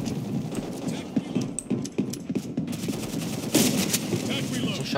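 Shotgun blasts in the first-person shooter Black Squad, several sharp reports at close range over busy game noise, with a person talking throughout.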